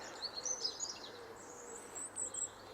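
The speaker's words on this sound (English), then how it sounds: "This is a little Goldcrest." A Goldcrest in a snowy garden gives thin, high, faint calls in short bursts against quiet background hiss.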